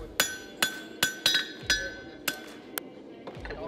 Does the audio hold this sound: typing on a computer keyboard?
no